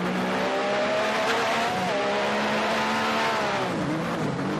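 A Formula One car from the 1988 Adelaide race in F1 Challenge 99-02 on a slow in-lap, its engine droning steadily and loud throughout with rising and falling revs and light tyre squeal.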